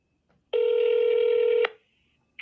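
A phone placing a call gives one steady, loud tone lasting about a second, followed by a brief faint click, with no talking.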